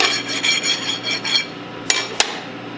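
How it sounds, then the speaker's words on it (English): A metal file rasps burrs off the shaft of a Hypro roller pump in quick, rhythmic close strokes, followed by two sharp metallic clanks. "you'll want to file off any burrs that may be left over on the shaft"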